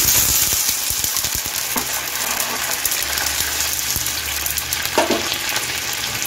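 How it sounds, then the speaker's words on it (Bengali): Curry leaves fried in a pan as water goes in, with a loud continuous sizzle and hiss close by and a few knocks of a utensil, no one speaking. "দেখুন কারি পাতা দিয়ে ভেজে নিয়েছি, এখন আমি জল দিয়ে দিচ্ছি"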